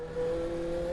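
A dirt oval race car engine revs high in fifth gear, a sustained buzzing drone with a steady pitch that swells after a brief dip and holds loud and close, with no talking.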